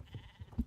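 A sheep bleats in the video game Star Stable Online: a single short, faint call in quiet surroundings.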